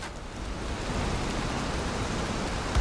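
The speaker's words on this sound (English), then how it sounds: "Oh, look at that rain." Steady, soft hiss of rain in the factory-building video game Satisfactory, an even wash of noise that stays constant and fairly quiet, with no voices.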